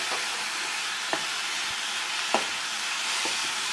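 Onion and tomato fry in a pan, a steady broadband sizzle and hiss running throughout with a few faint clinks scattered across, no talking.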